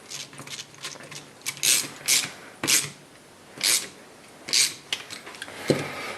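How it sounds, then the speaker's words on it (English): A ratchet tightening the 12 mm bolts on a rebuilt rear brake caliper of a four-wheeler gives about eight short, sharp bursts of clicking, spaced irregularly and close by, with no talk. "I'm going to tighten these 12 millimeters up"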